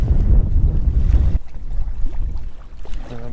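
Strong wind buffets a small fishing boat on choppy water with occasional whitecaps, giving a loud, steady roar of wind noise and water slapping against the hull throughout.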